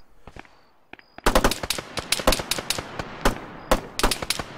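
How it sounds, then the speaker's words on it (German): Gunfire in the video game Arma 3: after a few faint shots, loud rapid bursts and single cracks ring out irregularly, close and sharp. "Hinter uns schießt jemand auf uns, Jürgen."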